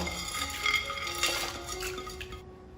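Lotus seeds, lily bulb, glehnia root, Solomon's seal, Job's tears and wheat kernels are rinsed in water, giving soft sloshing with light clinks and rattles against a bowl for a few seconds before it stops.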